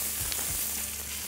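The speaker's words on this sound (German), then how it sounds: "legen die in der Pfanne aus." Salted skin-on fish fillets laid into a hot pan sizzle and crackle loudly and steadily, with a couple of soft bumps as they go in.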